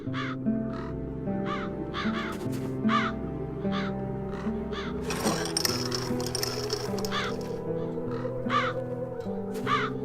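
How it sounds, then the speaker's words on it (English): Crows cawing in a town scene of the adventure game The Dark Eye: Chains of Satinav, repeated harsh caws in a steady rhythm over a layered game music backdrop. "The crows haven't left anything of the town's banner."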